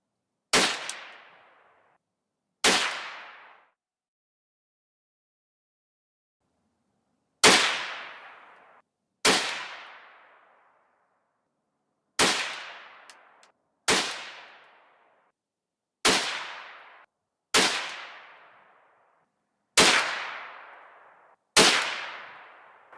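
Ten sharp shots from a Savage A22 .22 WMR rifle fired while zeroing a scope outdoors, loud and close, spaced irregularly a second or several seconds apart, each with a short decaying ring.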